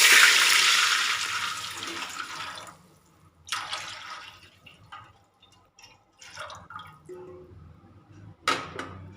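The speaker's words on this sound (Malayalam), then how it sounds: "2 ഗ്ലാസ് അരിക്ക് 4 ഗ്ലാസ് വെള്ളമാണ് ഞാൻ ചേർത്ത് കൊടുക്കുന്നത്" Water poured into a cooking pot before rice goes in, a strong splashing pour for the first few seconds, then quieter drips and light clanks of the pot.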